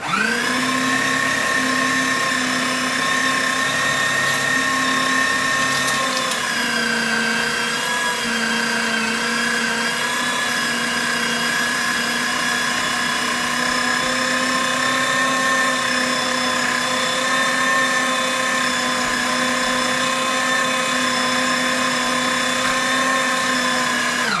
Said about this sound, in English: let's turn this on, it makes a bit of noise, and we're going to mince it up